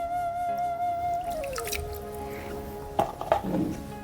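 Wet soil squeezed by hand in a bucket of water, heard as a few soft squelching squishes near the end over a steady tonal background.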